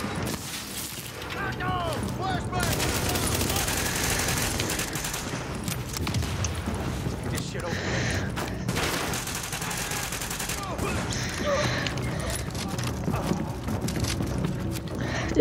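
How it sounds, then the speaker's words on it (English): Light machine gun fire in The Division, dense bursts of automatic shots running almost nonstop, loud and close, mixed with other battle noise and voices talking over it. "Don't tell me this is a light machine gun"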